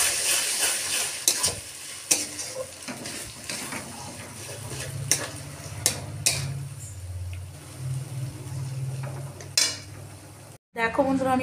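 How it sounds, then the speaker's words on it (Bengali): Elephant foot yam paste fries with browned chopped onion in a wok: steady sizzling and frying hiss under repeated stirring scrapes and clinks of a spatula against metal, close and loud, with a brief cutoff near the end. "এবার এই ভাজাটার মধ্যে আমি ওই মানকচু বাটাটা দিয়ে দেবো।"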